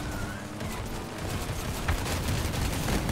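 Vehicle-mounted guns firing in the combat game Crossout, a dense, continuous barrage of overlapping shots and blasts that stays loud and close for the whole stretch.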